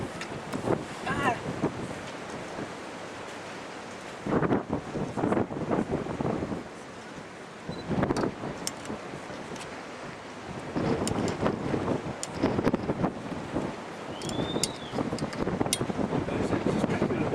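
Wind gusts buffet a boat on the water in Egypt, roaring in strong surges that rise and fall over about seventeen seconds, with voices briefly talking in the background.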